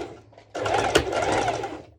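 A sewing machine running a short straight stitch on a skirt, one steady burst of fast rhythmic whirring and clatter lasting about a second and a half, close and fairly loud, with no talking.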